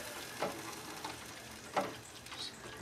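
Beef back ribs being mopped with baste inside a smoker, a soft, steady sizzle with a few brief wet swipes and dabs standing out faintly above it.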